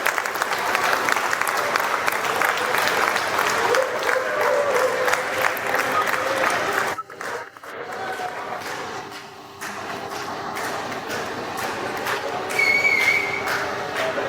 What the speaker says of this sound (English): A round of applause for Ava and Leia.